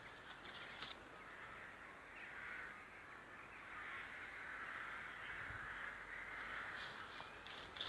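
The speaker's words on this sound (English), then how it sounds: "You can hear them rooks in the background." Rooks cawing steadily in the distance, a continuous chorus of harsh calls filling the background outdoors in a garden beside a grapevine.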